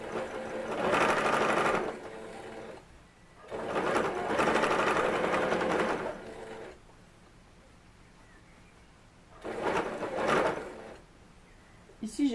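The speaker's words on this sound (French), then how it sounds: "Je vais venir faire une couture à quelques millimètres du bord." Sewing machine stitching a seam a few millimetres from the fabric edge: three close bursts of rapid mechanical chatter, each a few seconds long, separated by quiet pauses.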